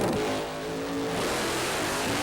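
Alcohol funny car drag racing engine at 1995 drag races, a loud sustained roar with rising and falling revving pitch throughout, no talk over it.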